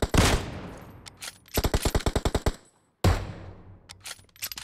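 Automatic gunfire in PUBG aimed at a vehicle's tires: a sharp opening shot, then a rapid burst of about a dozen loud, evenly spaced shots, a brief silence, and another close blast trailing into scattered shots.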